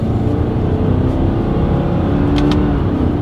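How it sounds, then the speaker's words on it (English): A 2023 Subaru Forester accelerating hard through paddle-shifted simulated gears, a loud continuous engine drone rising in pitch from close inside the cabin. "let's see how quickly we can get our new Subaru Forester here up to speed"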